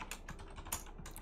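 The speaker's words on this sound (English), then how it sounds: "I'm typing import final." Rapid, uneven keystrokes on a computer keyboard while writing code, close and fairly loud, clustered in quick bursts with brief pauses between them, and no voices.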